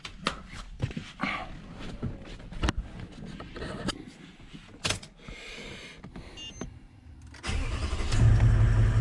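Vehicle engine running during brake and transmission work, a low idle under scattered clanks and knocks, then growing louder and steadier near the end.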